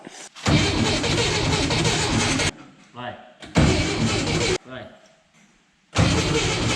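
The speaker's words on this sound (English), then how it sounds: "we're gonna try and set the timing and go for a start" An old VW Bus engine, long left sitting, is cranked in three long bursts, its starter grinding loudly and not catching, with quiet gaps between attempts where people talk.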